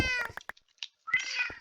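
Cat meowing in the Minecraft video game, a short high mew followed by a longer drawn-out meow, close and clear with a brief quiet gap between.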